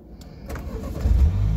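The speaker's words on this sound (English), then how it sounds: "So you start the car." A 2021 BMW X2 engine starts up close by with a short starter whir, then catches into a low, steady idle rumble.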